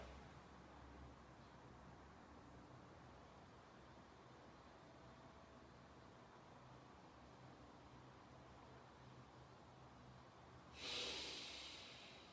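A single sharp breath drawn in through the nose during a hypopressive abdominal exercise, close and brief near the end, after a long stretch of faint steady hiss.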